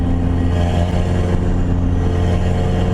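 Turbocharged KA24DE engine in a Nissan 240SX, running loud and close with a steady, dense drone and a slight lift in revs, carrying a constant low hum without any voices.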